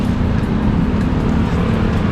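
A Toyota HiAce van's engine idles steadily in the background, a constant low rumble that stays even and unbroken with no speech over it.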